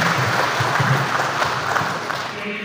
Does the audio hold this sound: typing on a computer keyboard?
no